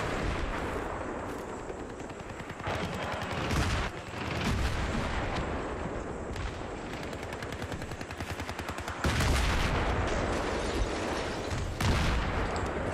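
Gunfire in the video game Battlefield 3 on a battlefield, repeated rapid bursts of automatic fire mixed with single sharp shots and heavier booms, continuous and dense throughout without speech.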